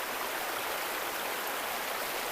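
Steady broadband rush of a river stream flowing outdoors in Aguilar, Pangasinan, a continuous even wash of water with no pauses, fairly close and uninterrupted, with no voices.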